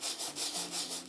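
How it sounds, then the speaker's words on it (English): Sandpaper rubbing across a painting on stretched canvas, a steady rasping scrape repeated in several strokes, close and fairly quiet with no talking. "I'm going to try some sanding here"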